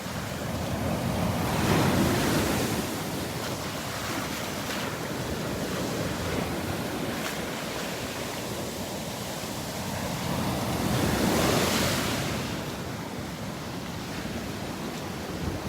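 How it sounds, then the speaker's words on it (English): Waves crash heavily onto a beach at high tide in Naples, Florida, in slow surges, two louder breakers rising and fading, with wind rushing across the microphone throughout; no voices. "These waves are destroying the beach here."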